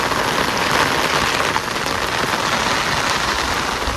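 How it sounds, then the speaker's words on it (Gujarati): Heavy rain pours down steadily near a house terrace, a dense, continuous hiss of drops hitting surfaces with no let-up and no voices. "વાત પૂછોમાં જોરદાર નો વરસાદ આવે છે."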